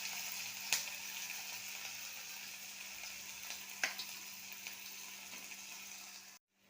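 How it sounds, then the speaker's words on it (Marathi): Ginger-garlic paste and green chilli sizzle in hot oil for hotel-style paneer chilli, a steady broadband hiss with a steady low hum beneath and two sharp clicks from a utensil, without talk. "इथे तेलामध्ये आपण आलं लसूण मिरची ॲड केलेली आहे आणि 1-2 मिनटं ती आपण फ्राय करून घेऊया, मिक्स करून घेऊयात"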